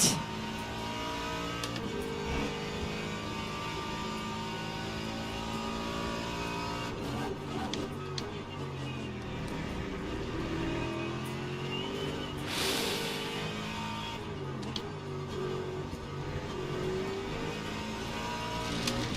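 GT3 race cars racing at Sebring in the Le Mans Ultimate game, with a continuous engine roar that rises and falls through gear changes, close and steady, with brief sharp bumps, and no voices.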